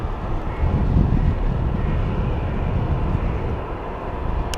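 An Air Canada Boeing 777 airliner banks in on approach to Heathrow's runway 27, a steady, distant broadband engine roar mixed with wind buffeting the microphone, with no voices.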